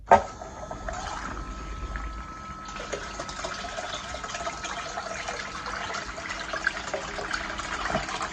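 Water runs steadily through a gold prospecting cleanup sluice in Missouri, a constant, fairly quiet rushing wash that begins with a brief knock.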